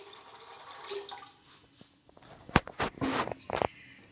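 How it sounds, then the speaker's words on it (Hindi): Water is poured into a pot of black chickpeas set to soak, making close, splashy gurgles that grow louder and more broken toward the end. "पानी पानी इतना डालना है कि चने अच्छी तरह डिप हो जाएं"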